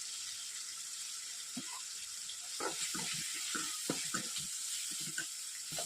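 Ginger garlic paste frying in hot oil for a village-style small-fish curry, a steady soft sizzle with scattered crackles and light stirring scrapes growing busier partway through.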